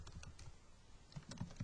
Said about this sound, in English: maybe I'll do that by typing the SQL